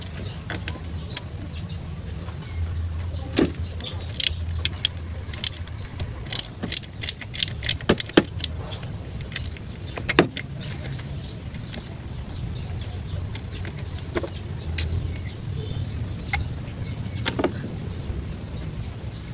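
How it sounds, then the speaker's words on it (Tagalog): An 8mm socket wrench works loose the fuel injector on a Suzuki Burgman Street scooter, giving a run of sharp metallic clicks and ratchet ticks, some in quick bursts, close by over a low steady background hum. "Tapos niyan ay yung mismo fuel injector na po ang tatanggalin natin sa pamamagitan ng 8mm na socket wrench."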